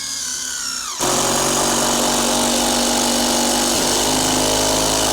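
Tigron cordless impact driver run at its highest torque setting, rated 160 newton-metres, driving a screw: a loud, close motor whine that bursts into a continuous hammering roar after about a second, alone with no talk.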